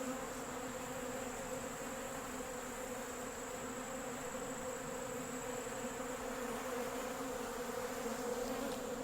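Many honey bees drone in a constant, layered buzz that stays level from start to finish, without any voices.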